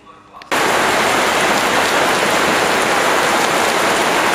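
Steady rain falls heavily and close, a loud continuous hiss of drops on surfaces that switches on abruptly after a brief quieter moment and holds evenly throughout.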